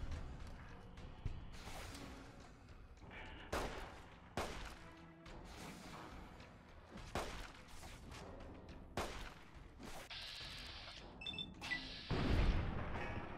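Gunshots in the video game Fallout: New Vegas, a series of sharp cracks and booms scattered among clanking mechanical game sounds, moderately faint with no talking.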